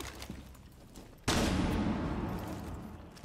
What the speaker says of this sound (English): Second flashbang out.